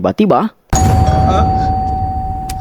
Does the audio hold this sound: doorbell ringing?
yes